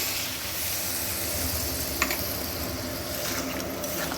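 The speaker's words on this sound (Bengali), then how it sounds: "কষানোর সময় যাতে নিচে না লেগে যায় তার জন্য মিক্সি কাঠিটা ধুয়ে খুব সামান্য একটু জল এখানে অ্যাড করছি" Potato and pointed gourd masala sizzling in a pan after a splash of water, a continuous moderate hiss with one sharp tap near the middle and light stirring sounds.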